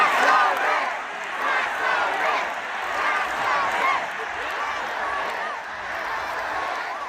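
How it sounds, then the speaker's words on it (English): Large crowd at a political rally, a dense wash of many voices cheering and shouting together, steady and loud throughout with rising and falling swells of chanting. "and the crowd didn't hold back"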